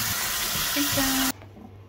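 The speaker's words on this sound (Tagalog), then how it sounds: "Lalagyan kami na ulit ng tubig at lalagyan ng asin para ibabad niyo lang muna." Water running into a bowl of pork for a salt soak in a home kitchen, a steady hissing stream that stops abruptly after about a second, leaving quiet room sound.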